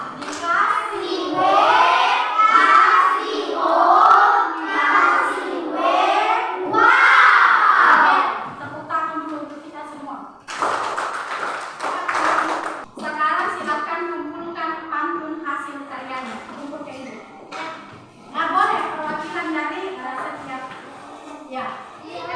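A classroom of children chant and shout the 'tepuk wow' clapping cheer together, loud rhythmic voices in unison with a burst of claps, followed by quieter talk.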